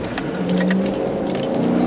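A fleeing car accelerates through a residential area during a police chase, its engine holding a loud, steady droning whine close by, with a slight rise in pitch across the short burst and no voices.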